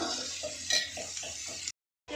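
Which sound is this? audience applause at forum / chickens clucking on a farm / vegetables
vegetables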